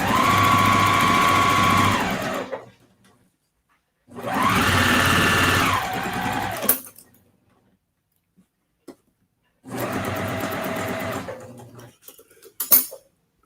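Sewing machine stitching a quilt block, running in three separate bursts of about two seconds each with short pauses between, close and fairly loud, with a few small clicks and taps after each run.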